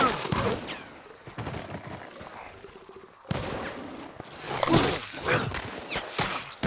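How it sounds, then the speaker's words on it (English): Gunfire in Hunt: Showdown, a late-1800s bayou shooter: scattered sharp shots and short bursts ringing out at varying distances, some loud and near, with reverberant tails. "Someone's shooting at me."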